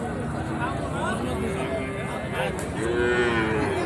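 Cattle, including Sahiwal and Gir breeds and bulls, low and moo several times over a noisy crowd murmur at a cattle market, the long drawn-out calls rising above the background chatter.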